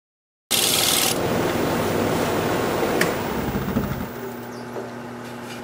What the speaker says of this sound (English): let me put a fresh edge on my scraper and we will scrape.